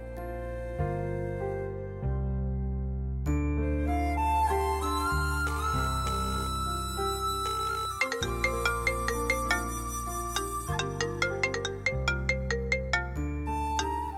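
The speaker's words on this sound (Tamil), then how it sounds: "அண்ணி கால் பண்றாங்க," An incoming call rings on a mobile phone in a Tamil TV drama: a loud, melodic electronic ringtone plays for many seconds, with bright stepped tones and a busier, quicker section near the end, and no talking over it.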